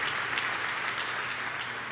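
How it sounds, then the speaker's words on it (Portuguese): A church congregation applauds a sermon text with dense, steady clapping that fills the room evenly and stays loud throughout, without any voices. "Dá uma salva de palmas aí para esse texto"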